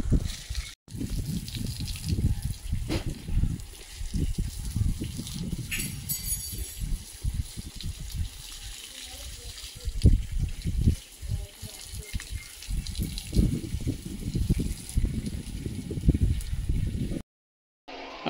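Water pours and trickles steadily onto potted plants at home after overnight rain, a continuous close splashing wash with faint voices occasionally underneath.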